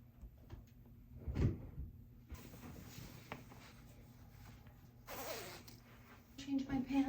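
A blue Lululemon zip-up jacket being zipped, with a quick close zipper rasp early on, followed by quiet rustling and handling noises in a room, then more fabric movement near the end.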